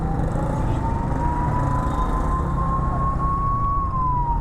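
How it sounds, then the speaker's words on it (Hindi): An ambulance siren wails in a single long, slowly rising then falling tone, heard from a distance over steady road noise while driving. "एम्बुलेंस।"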